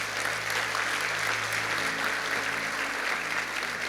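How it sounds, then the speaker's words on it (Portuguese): Church congregation applauding during a sermon, a steady, moderately loud wash of clapping without talk. "Uau, deu um aplauso a ele."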